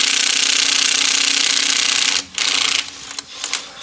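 An impact wrench with an automatic torque regulator hammers on a truck's wheel lug nuts in a loud, continuous rattling burst, then cuts off and restarts in a few shorter bursts near the end.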